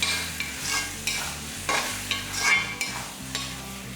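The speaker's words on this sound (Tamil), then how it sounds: "அடுப்பில் வச்சு கிண்டும் போது எண்ணெய் எல்லாம் பிரிஞ்சு வருது" A spoon scrapes and stirs thick brinjal kotsu, an eggplant gravy, in an oily pan on a stove, with soft sizzling. Irregular stirring strokes sound close, with no voices.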